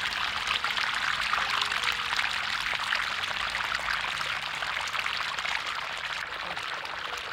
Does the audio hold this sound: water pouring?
yes